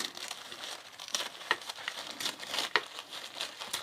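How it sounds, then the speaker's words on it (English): Material is torn by hand with the fingers for a shabby chic craft, producing quiet, close crinkly ripping and rustling in irregular bursts, with no voices over it. "I only need one side, so I'm just going to tear that using my fingers"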